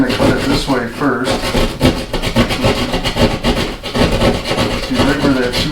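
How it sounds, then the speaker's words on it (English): Drywall saw cutting through drywall during a repair where a towel bar was torn out: loud, close, continuous rasping back-and-forth strokes in a quick, uneven rhythm, with no voices. "What I like is what is actually a drywall saw."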